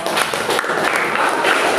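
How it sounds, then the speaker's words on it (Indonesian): Classroom students clap together in a dense, steady burst of applause that fills the whole moment, loud and close, with a faint trace of voices mixed in. "betul tepuk tangan dong"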